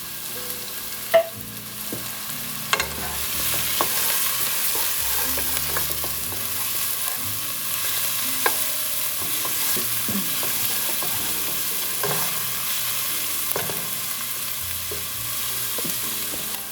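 Onion sautés in a hot pan with minced garlic, a soft continuous sizzle and fry broken by scattered scraping and clicking stirs of a utensil, close and moderately quiet, with no talking.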